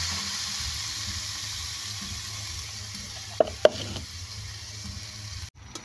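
A steady low bubbling and hissing of a pot of coconut milk stew with kamansi simmering, close by, with a couple of sharp clinks partway through.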